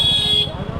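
Vehicle horn on a busy New Delhi street, one short loud high beep cut off after a fraction of a second, over low traffic noise and a nearby voice.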